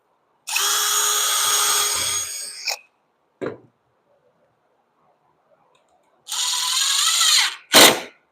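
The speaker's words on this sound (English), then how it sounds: "let's pre-drill right on top of the screw" A power drill whirs in two bursts while pre-drilling a screw hole, each a couple of seconds long, with short clicks and knocks between and after them.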